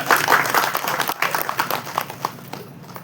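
Applause at a Tamil film press meet, a dense patter of clapping from a gathered crowd that fades toward the end.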